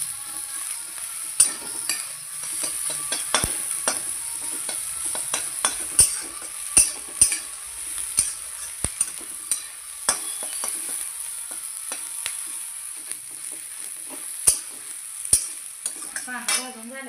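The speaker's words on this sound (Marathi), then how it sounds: "आपला कांदा पण आता भाजत आलेला आहे।" Onion sizzles and fries in a pan for Marathi-style dry mutton, with a spoon scraping and stirring in repeated sharp clicks over a steady soft hiss, close and alone.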